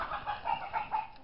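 Hens cluck close by in a few short, nasal bursts that come in a rough rhythm, clear and fairly loud, with no talking over them.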